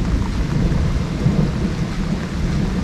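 Thunderstorm during a night of carp fishing by a wild river, with a steady roar of heavy rain and deep rumbling thunder swelling through it. The sound is continuous and fairly loud, and no one speaks.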